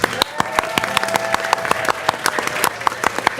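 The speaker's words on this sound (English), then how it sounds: "And everyone applauds." Applause from an audience after the big finish of a dance performance, with sharp individual claps popping out of a steady wash of clapping, close and continuous throughout.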